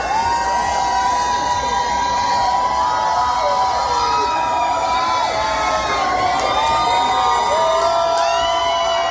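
A crowd cheers and whoops continuously, with many overlapping high yells and woos rising and falling, loud and close, alongside some shouting voices.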